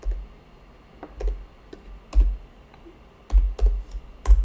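Fingers pressing keys on a TI-Nspire calculator keypad, a sparse, irregular run of soft close clicks with quiet gaps between presses.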